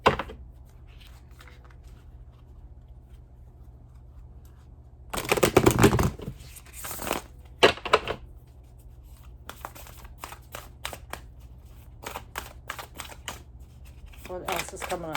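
Tarot cards shuffled in bursts of crisp riffling and flicking, a dense flurry first and then scattered quick snaps, close and clear over a quiet room hum with no voice.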